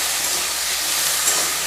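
Paneer frying lightly in a pan, giving a steady, close hiss of sizzling that holds evenly throughout with no talk.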